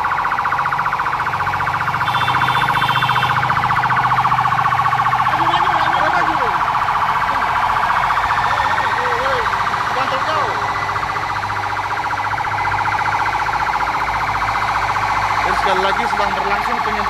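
Fire truck of a municipal fire and rescue service spraying disinfectant through town streets, its siren wailing continuously and loud over engine rumble and street noise, with a person talking faintly underneath.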